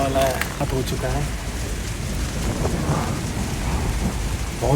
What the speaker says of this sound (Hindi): बारिश भी छूटने की नाम नहीं ले रही है।